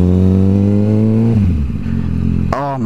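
A sport motorcycle with the rider aboard revs hard and close, its engine note climbing steadily, then dropping through a gear change before it surges again into a sharp rising whine at the end.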